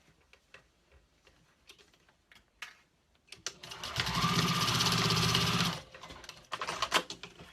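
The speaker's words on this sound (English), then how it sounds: "Backstitch quite a bit for extra reinforcement, and then trim off the excess" A Juki 2000 QI sewing machine runs in a fast, even rattling burst for about two seconds while backstitching, framed by scattered light clicks and handling taps before and after.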